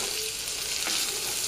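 Tomatoes frying in a pan, a loud, steady close sizzle with a brief stir partway through.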